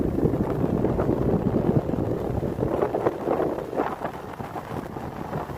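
Cold morning wind rushing past while riding on an open road, a steady, loud buffeting roar with gusty fluctuations throughout and no voices.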